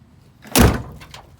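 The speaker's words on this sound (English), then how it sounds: "I can't open the door all the way." A 1969 Plymouth Road Runner door is pulled open with a single heavy metallic clunk and a short scraping creak, close by, with quiet around it.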